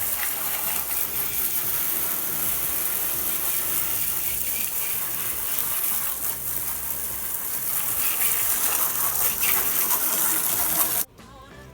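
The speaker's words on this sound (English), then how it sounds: "All right, we're rinsing the front off now." Water hose spraying steadily across the front of a car during a wash, a dense continuous rush of water that runs unbroken at close range for about eleven seconds before cutting off abruptly.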